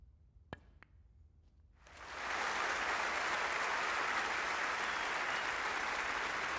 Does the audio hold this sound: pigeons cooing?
no